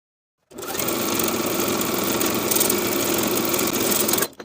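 Loud and close, a sewing machine runs continuously, edge stitching along the upper inner fold of a pajama pant hem, its steady mechanical whir holding even for about four seconds before stopping.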